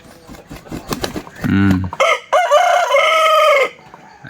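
A hill-breed rooster crows loudly and close by, one long drawn-out call following several shorter clucks and squawks from fowl.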